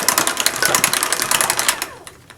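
An electric mixer beats butter cookie dough at a raised speed, making a rapid, even clattering whir that runs briefly and then winds down.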